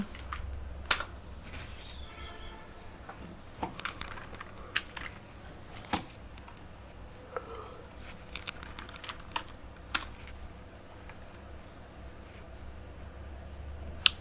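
Someone types a website search on a computer keyboard, giving close, dry, irregular clicks in short bursts with pauses between, over a quiet room.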